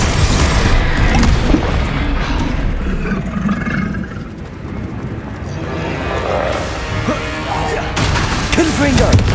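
Fiery Confringo spell blasts in the Hogwarts Legacy video game, loud booming explosions in repeated bursts with rumbling decay between them and a voice calling out spell names in places.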